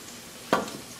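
Chopped onion lands in a frying pan with a brief sharp hiss, then settles into a faint sizzle against quiet room noise.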